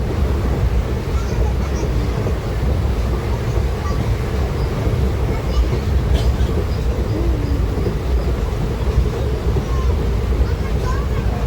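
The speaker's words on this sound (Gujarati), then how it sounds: "ટ્રેન અમારી હાલતી થઈ ગઈ" A moving passenger train rumbles steadily throughout, its broad low roar continuous and fairly loud with no distinct clacks standing out.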